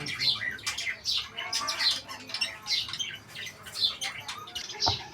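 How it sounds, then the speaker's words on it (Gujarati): Caged finches at a small home zoo give a steady series of high chirps and short squawks, close and moderately soft, repeating in an uneven rhythm. "અને આ ફિન્સ,"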